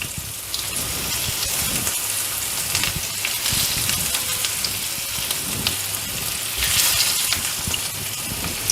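Stuffed bitter gourd pieces fry in hot oil in a pan, a close, dense crackling sizzle with scattered sharp pops, steady throughout without talk.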